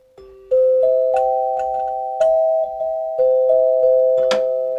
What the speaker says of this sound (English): it's another NBC chime.